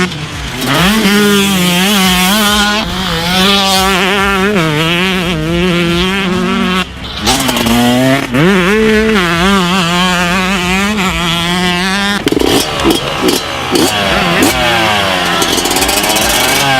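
A 125cc two-stroke motocross motorcycle engine screams at wide open throttle, rising and falling in pitch through repeated gear runs, loud and close, with a brief drop in revs between pulls.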